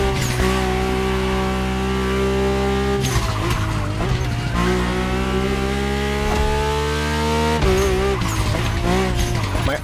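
A Mercedes-AMG One hypercar drives in The Crew Motorfest, its engine droning loud and steady with rising and falling pitch as it shifts, accompanied by tyre squeal and skidding.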